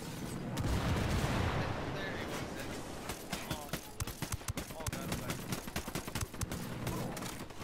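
Gunfire in the Tom Clancy video game Ghost Recon Wildlands: a dense early burst, then a rapid, ragged string of sharp shots and bursts that keeps going, with voices talking over the shooting.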